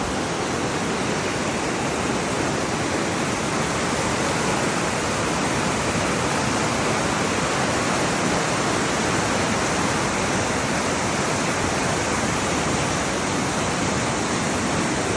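Floodwater of the Traun river in Traunstein rushes in a dense, steady roar that fills the whole clip, loud and close, with no pauses or other sounds.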